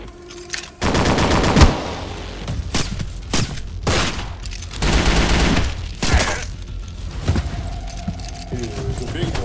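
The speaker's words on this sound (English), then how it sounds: "Open fire." Sustained bursts of automatic gunfire from the Resident Evil video game, loud and dense, with several rapid volleys separated by short gaps and booming impacts, along with a low throbbing rumble between bursts.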